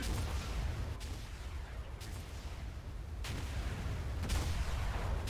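Rockets fired from a tank in a combat video game, loud booming blasts landing roughly once a second over a dense, constant rumble of gunfire and battle noise.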